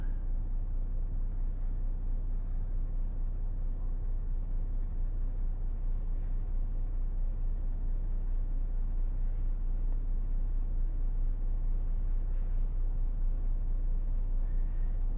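A heavy truck backs into a yard, its engine holding a loud, steady low rumble throughout with no talking.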